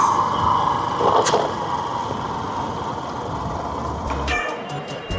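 A Mumbai suburban local train bound for Virar pulls into a platform, a loud sustained rumble and metallic screech of wheels on rails, with sharp clanks near the end and no speech.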